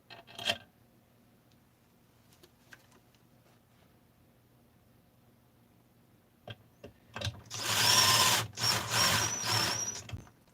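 A power tool drives bolts into powder-coated Porsche 288 engine cases in a workshop, with loud whirring bursts near the end after a sharp clank and quiet tinkering.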